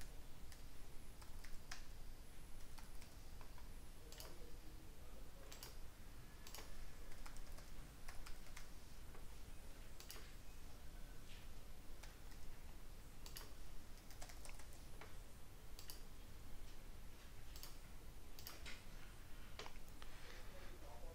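A username and password are tapped out on a computer keyboard in scattered, faint keystrokes over a quiet background hum.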